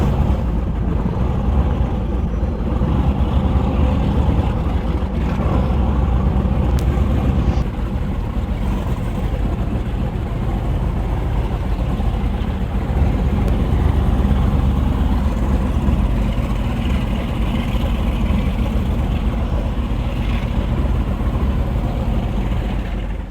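A twin-engine boat runs on its port engine after losing the starboard engine and reverse, a steady, loud low-pitched engine drone and hull rush that continues unbroken, with no talking.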